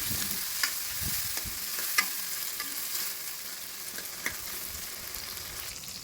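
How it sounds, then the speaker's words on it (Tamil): Tomatoes sautéing in oil for a garlic kuzhambu give off a steady, moderately quiet sizzle. Occasional sharp pops and stirring clicks break through it, and no one speaks. "தக்காளி 2 சேர்த்துக்கிறேன். நல்லா வதங்கணும் எண்ணெயிலே"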